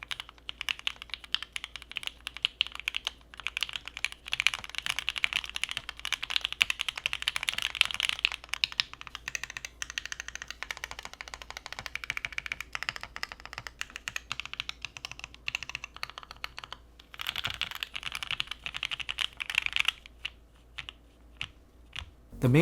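Clacky mechanical keystrokes from a KeebsForAll Coarse60 keyboard, typed in a steady, fast run of crisp close-up clicks for about twenty seconds, with no voices.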